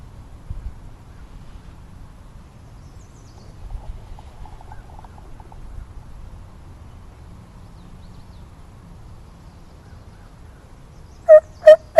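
Two loud wild turkey gobbles burst out near the end, close and sharp, during a solo spring turkey hunt on Michigan public land; before them is only quiet outdoor rustle and low background noise.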